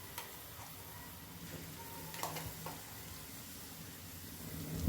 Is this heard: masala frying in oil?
yes